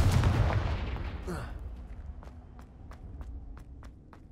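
A Confringo blast spell fires in the video game Hogwarts Legacy with a single loud explosive boom that decays into a rumbling tail, followed by soft rhythmic footsteps and light ticks.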